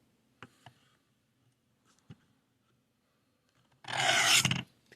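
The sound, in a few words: knife sharpening on coarse stone, Work Sharp guided system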